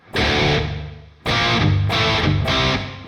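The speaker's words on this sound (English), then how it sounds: "That kind of platey, kind of artificially sounding reverb from the tank on the actual amp" An electric guitar plays loud sustained chords in several bursts through an amp's spring reverb tank, each washed in a metallic, splashy reverb that rings into the gaps.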